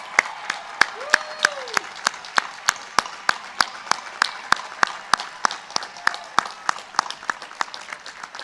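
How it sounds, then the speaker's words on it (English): Audience applause at a High Point University event, heard as steady, evenly spaced claps ringing out at a moderate distance with no talking over them. "Let's give him a round of applause"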